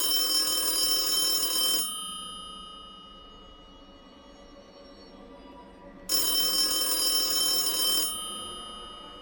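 A telephone rings in two loud, bright bursts separated by about four seconds of silence, with each ring lasting roughly two seconds.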